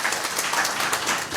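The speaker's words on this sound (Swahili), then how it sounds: "Makofi kwa CEO wetu." An audience at a Kenyan service-desk launch event applauds the CEO, a brief burst of dense, moderately loud clapping with no talk over it.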